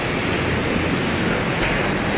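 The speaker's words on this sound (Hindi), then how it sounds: "भयंकर पानी जा रहा है।" Floodwater rushes along a street in Gangapur City after heavy rain, a steady, loud, unbroken wash of noise with no voices.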